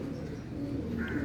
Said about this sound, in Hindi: फ्रांसी कबूतरी है